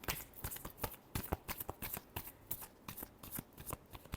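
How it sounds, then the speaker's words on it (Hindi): A deck of tarot cards riffles and shuffles close by in a quick, steady run of crisp papery flutters and slaps, with no voices. "Last shuffle."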